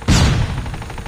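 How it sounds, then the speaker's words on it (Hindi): Gunfire in a Call of Duty match: a sharp, loud blast rings out and decays into a rumbling tail of shots and echoes, with no voices over it. "सामने गोली चल रही है।"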